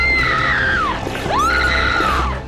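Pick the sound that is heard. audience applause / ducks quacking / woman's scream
woman's scream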